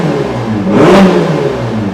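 A 2018 Ferrari Portofino V8 convertible with a sports exhaust revs loudly and close by, its engine note swelling to a peak and then easing back.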